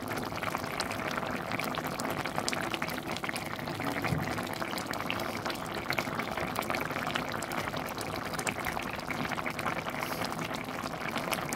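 Brinjal and potato simmering in a tengra fish curry, a steady low bubbling that runs unbroken and fairly quiet throughout, with no voices.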